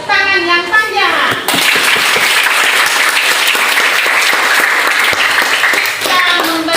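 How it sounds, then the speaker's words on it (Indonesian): Long, steady applause from an audience in an Indonesian teachers' training session, dense and loud from start to finish after a brief opening of speech, with a few voices faintly mixed in. "mari kita memberikan tepuk tangan yang panjang"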